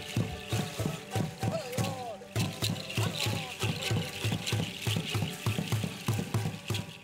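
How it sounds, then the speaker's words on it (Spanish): Guarache sandals stamping together with bone rattles in the Danza de la Conquista, performed for the Virgin of Guadalupe near a shrine in San Luis Potosí; steady rhythmic stamps and clatters repeat densely over a lively crowd din. "Este es el sonido de la mezcla de guaraches y sonajas de hueso."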